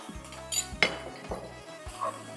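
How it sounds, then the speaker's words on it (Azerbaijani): A spoon stirs spices, salt and red pepper, in a cooking pot, making a few bright metallic clinks and scrapes against the pot, close and fairly quiet. "Biraz da yüngülvari qaşıq vasitəsindən qarışdırırıq, amma çalışmaq lazımdır ki, ədviyyatlar yanmasın."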